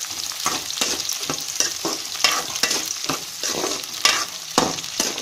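Chopped onions and garlic sauté in hot oil for a garlic pepper gravy, with a steady crackling sizzle broken by repeated scraping stirs of a spoon against the pan, close and loud with no talking.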